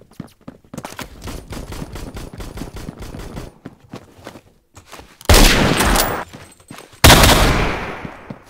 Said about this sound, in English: There's a guy sniping!